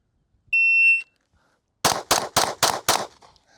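A shot timer gives one clear electronic beep, followed after a short pause by five sharp pistol shots fired in quick, even succession at 14 yards, loud and close with no talking.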